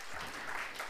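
A lecture hall audience at a public talk applauding briefly, a soft, quick wash of clapping lasting about a second.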